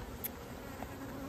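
Honey bees buzz steadily around a hive as comb is scraped and the bees are shaken off, a soft continuous hum with a faint high whine throughout.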